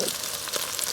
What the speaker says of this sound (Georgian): თევზი რომელიც იწვება, უნდა ზეთში ჩაჭიპჭიპებული იყოს